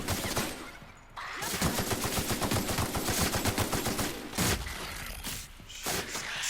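Rapid bursts of gunfire from The Outer Worlds video game, a dense loud volley of repeated shots lasting several seconds with brief pauses and a final few heavy blasts.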